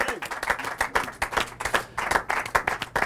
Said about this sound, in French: applaudis sur le plateau